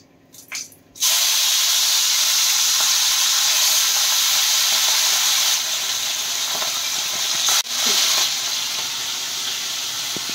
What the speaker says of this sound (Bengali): এখন তেল গরম করে দিয়েছি, আস্তে আস্তে ভাজাটা হচ্ছে